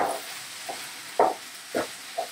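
Spoon stirring sifted flour in a pan while making broccoli pascualina, a few soft scraping strokes spaced apart over a quiet background, faint and close.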